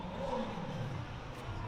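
A car engine revs at an outdoor supercar meet among Lamborghinis and Porsches, a steady distant roar blended into crowd and ambient noise with no clear speech.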